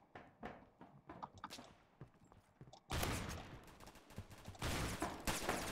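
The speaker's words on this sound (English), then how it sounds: "Shotgun might not be the best thing for this." Loud shotgun blasts in a video game, beginning around the midpoint with dense, sustained bursts of gunfire that dominate the mix after quieter scattered shots and footsteps.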